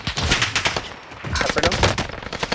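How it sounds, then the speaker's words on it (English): Rapid bursts of video game gunfire crackle in quick succession, a dense automatic rattle with a short pause midway before resuming, close and loud with a little talk mixed in. "That's a gun."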